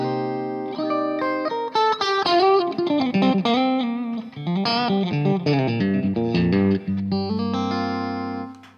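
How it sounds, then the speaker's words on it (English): An electric Stratocaster guitar played through an AMP1 Iridium edition amplifier with boost and reverb, a run of plucked notes and chords with a bright, slightly driven tone, loud and continuous with no talking. "Okay, this is now the Iridium edition. Let me show you how this sounds with a Strat."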